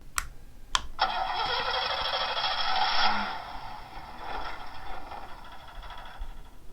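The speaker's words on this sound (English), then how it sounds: "Now, let's say we want to start the engine. Okay. Oh, it stalled again." After two sharp clicks, the engine sound effect of a LEGO Ecto-1 light kit whirs into life with a buzzing, high-pitched drone, runs for a few seconds, then sputters and dies away as it stalls.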